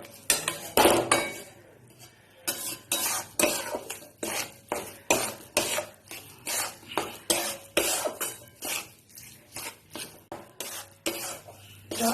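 Sticky besan ladoo mixture of gram flour being stirred in a pan, a steady run of scraping strokes roughly every half second, each with a dull knock of the spoon against the metal, close and alone without talk.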